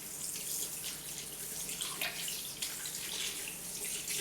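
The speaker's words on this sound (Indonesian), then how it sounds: "Kemudian kita bersihkan kedua pergelangan tangan dengan gerakan sirkular dan kita bilas kembali." Running tap water at a sink as hands are rinsed during a clinical handwashing routine, a steady, soft hiss of flowing water with small splashy bursts as the hands move under the stream.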